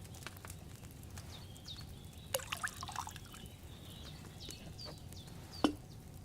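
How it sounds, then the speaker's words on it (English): Wine poured into a cauldron while brewing in the video game Kingdom Come Deliverance II: faint liquid trickles and drips over a low, steady ambient hum, with a couple of brief splashy accents. "First, you have to pour the right base into the cauldron."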